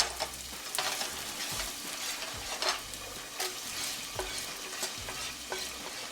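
Onions frying in a pan for a patty melt, a continuous close sizzle broken by repeated spatula scrapes and stirs, steady and fairly loud with no talking.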